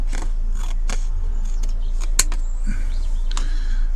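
Scissors snipping printed paper decals for a custom Corgi die-cast model, a series of crisp close cuts at an uneven pace over a low steady hum.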